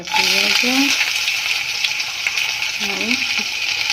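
Cumin seeds splutter in hot oil in a kadai for an aloo chop, a close, continuous bright sizzle, while a voice speaks briefly at the start and again near the end.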